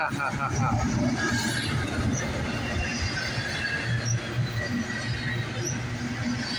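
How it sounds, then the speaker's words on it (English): A CSX 3080 locomotive leads an intermodal train as it picks up speed. Heavy low rumble comes with rolling wheel noise and faint high squeals, all steady and close. "This train is picking up speed now."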